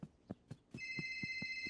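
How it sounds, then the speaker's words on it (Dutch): Telephone ringing in a children's cartoon: soft rhythmic thumps give way to a sustained electronic bell-like ring, faint and close, with no voices. "Wat doet die telefoon hier, Bing?"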